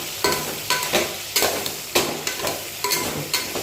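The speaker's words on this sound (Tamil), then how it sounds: "ஸோ மஞ்சள் பொடியை போட்டுட்டு நல்லா வதக்கிக்கோங்க" Eggplant sautéing with turmeric powder in a pan, soft sizzling under a regular rhythm of spatula strokes scraping and tapping against the metal, about six stirs spaced evenly and close.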